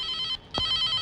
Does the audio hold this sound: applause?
no